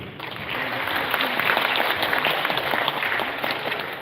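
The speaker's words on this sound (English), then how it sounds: "please join me in welcoming everybody here today with a very warm round of applause" Warm, steady audience applause welcoming guests at a media event, an even roar of many hands clapping from start to finish at moderate loudness.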